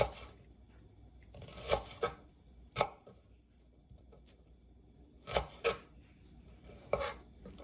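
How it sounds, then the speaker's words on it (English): A small paring knife slices a shallot gently against a board, a handful of soft, sparse cuts spaced irregularly in a quiet room. "I'm really not chopping. I'm kind of just trying to slice very gently."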